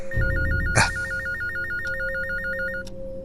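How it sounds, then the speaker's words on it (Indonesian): A telephone bell rings steadily in a rapid trilling pattern for about two seconds, with a thump near the start and faint clicks. No one speaks. "aku tersadarkan ketika mendengar bunyi telepon"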